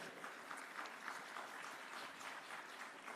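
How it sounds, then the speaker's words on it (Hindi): Applause from an event audience welcoming Haryana Chief Minister Nayab Singh Saini, a steady, fairly quiet wash of clapping that holds evenly for a few seconds without speech. "तो पहले तो जोरदार तालियों से उनका स्वागत किया जाए।"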